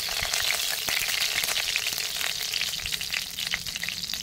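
Cooking oil crackles and sizzles steadily in a hot pan, a dense continuous frying hiss with scattered sharp pops, close and fairly loud, no voices.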